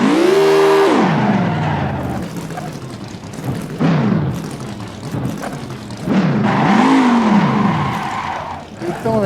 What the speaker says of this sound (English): You don't have a big turning radius in this car.